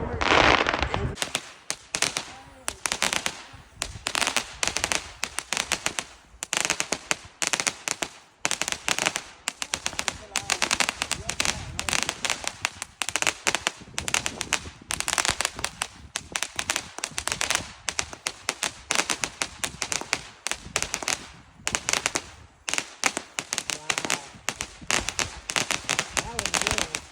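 Dense New Year's Eve fireworks and firecrackers crackle and pop almost continuously in rapid, irregular bursts, loud and near, with a voice talking at times beneath the barrage.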